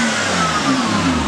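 A BMW 335 fitted with Megan Racing coilovers revs its engine and pulls away, a loud, steady mid-pitched engine roar that rises slightly in pitch as the car moves off, with no talking.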